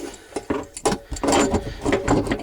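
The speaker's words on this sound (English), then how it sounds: "you can take and put your basin wrench up in here" Basin wrench ratcheting and clicking onto a fitting in the cramped space under a sink, irregular close metallic clicks and scrapes, no talking.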